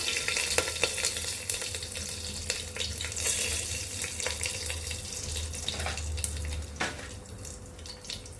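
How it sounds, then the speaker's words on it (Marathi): Cumin seeds and bay leaves frying in hot oil for masoor pulao give a steady, close sizzle with light crackle and scattered stirring clicks and taps throughout, no voices. "तेल तापलं आहे, त्यामध्ये आपण जिरं टाकूया।"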